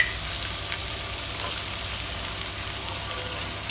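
Onions fry for chicken fried rice, giving a steady, dense sizzle of hot oil that runs throughout with a few faint crackles and no talking.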